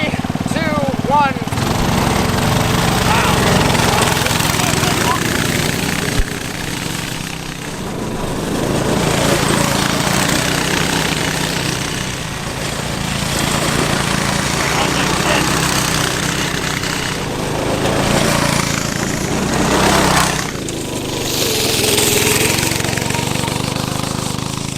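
A restored vintage go-kart engine runs with a rough, rattling buzz that rises and falls for about twenty-five seconds, close by, with people talking over it at times.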